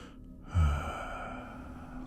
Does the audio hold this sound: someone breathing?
yes